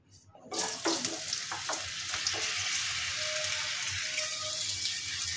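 Raw mango pieces hit hot mustard oil in a wok with a sudden loud burst of sizzling, which settles into a dense, steady, close frying hiss that holds to the end.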